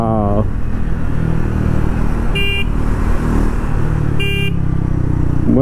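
A Triumph Speed 400 motorcycle being ridden gives off a steady, loud engine and wind roar, with two short high beeps standing out partway through.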